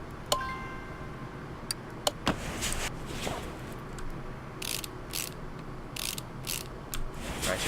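Ratchet clicks and whirring bursts from tightening wheel bolts after refitting brake pads and a caliper in Car Mechanic Simulator 2018, a few short mechanical bursts at moderate level with sparse ticks between them, no talking.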